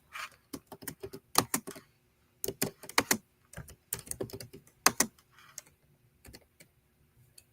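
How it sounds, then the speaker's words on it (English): Fingers tap a computer keyboard close by in quick irregular bursts of clicks with short pauses between, no talking. "I'm trying to type and Jesse's all up in my business."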